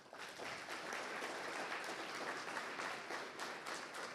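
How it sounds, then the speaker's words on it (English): Audience at a forestry seed transfer and provenance plenary session applauds the program committee, a steady, dense wash of many hands clapping continuously throughout, moderately distant. "please stand up so we can all clap for you"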